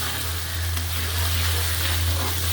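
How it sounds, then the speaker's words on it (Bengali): Spices with garlic paste and onion paste fry in hot oil, giving a steady, loud, close hiss and sizzle that runs unbroken, with a low hum underneath and no talk. "মশলাগুলো একটু ভাজা ভাজা হোক"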